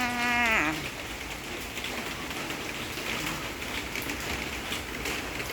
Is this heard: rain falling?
yes